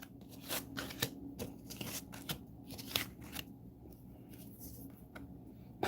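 Cards being shuffled during a Dungeon Brawler tabletop game, a run of close, crisp riffling and flicking bursts repeating irregularly over several seconds with faint room noise.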